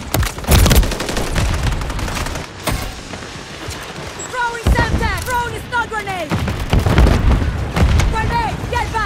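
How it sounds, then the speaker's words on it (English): Call of Duty MW3 firefight at the Ink House, with loud bursts of gunfire and heavy booms as a stun grenade is thrown, and brief whistling tones among the shots; a voice calls out over the action. "Throwing a stun grenade!"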